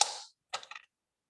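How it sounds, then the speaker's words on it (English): Scissors snip into a plastic water bottle: one crisp crunching cut, a short pause, then a second cut with a few quick crackling clicks, close and fairly quiet. "Just making some incisions in my water bottle"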